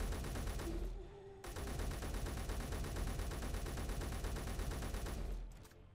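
Rapid automatic gunfire from guns with heavy recoil in the Space Engineers video game, loud sustained bursts that stop briefly near the one-second mark, then resume and run steadily before cutting off at the end.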